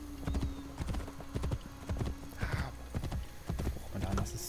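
A horse gallops in the video game Assassin's Creed Brotherhood, with rapid, rhythmic hoofbeats thudding close and steady throughout, and a brief whinny partway through.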